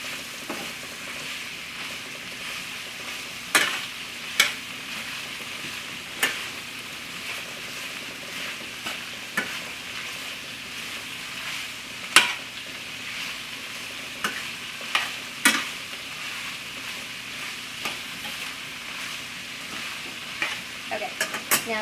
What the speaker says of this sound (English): I'm just stirring the cabbage in, making sure it gets all that good sausage flavor from the bottom of the pan